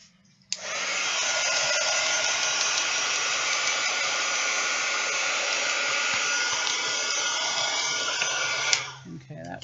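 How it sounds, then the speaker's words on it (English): A heat tool blows hot air onto wet paint on an art journal page, a loud, steady close-up whoosh that switches on abruptly and runs continuously for several seconds before cutting off. "I'm going to hit it with the heater real quick"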